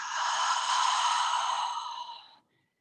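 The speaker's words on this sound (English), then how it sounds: "Hold the breath at the top and a deep breath out." A long, deep exhale through the mouth during a stretching session, a steady breathy rush lasting about two seconds that tapers off into silence, close and clear with no talking.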